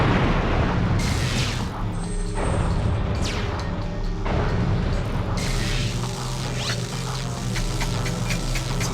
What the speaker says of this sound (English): Explosion sound effect or explosion effect.